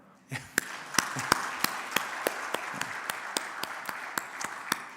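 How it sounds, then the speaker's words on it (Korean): A church congregation claps along during a Sunday sermon, a sparse, evenly spaced run of individual claps ringing out one after another at moderate distance over a soft room hum, fairly quiet overall. "일단 박수 한번 쳐볼까요?"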